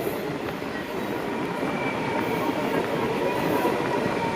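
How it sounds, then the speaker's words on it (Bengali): A passenger train pulls into platform 2 at Bagnan station on the Santragachi–Digha line, a steady loud rumble of wheels and carriages rolling without pause. "আমাদের ট্রেন বাগনান স্টেশনের 2 নম্বর প্ল্যাটফর্মে প্রবেশ করছে"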